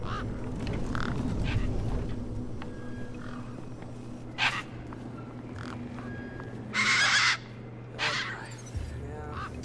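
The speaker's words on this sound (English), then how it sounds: "These were tough desert birds." Harsh cawing and squawking of tough desert birds in the game Beyond A Steel Sky, several separate raucous calls spaced over a low steady ambient hum, moderately close.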